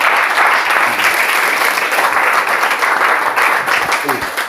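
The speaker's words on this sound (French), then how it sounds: "Applaudissons d'abord pour le Seigneur" Loud, sustained applause from a large crowd at a religious worship gathering, dense clapping filling the whole stretch with a few voices faintly mixed in.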